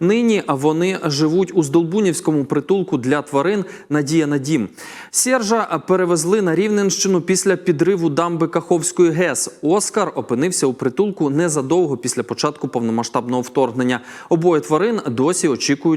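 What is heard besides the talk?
None of the usual background noises is heard.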